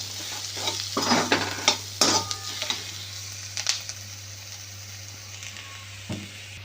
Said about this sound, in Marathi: शेंगदाणे सुद्धा कांद्याबरोबर भाजून घेऊया